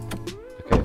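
A short mechanical whir with a rising tone, ending in a soft thump, from a car hood opening in Roblox Studio, heard alone and up close.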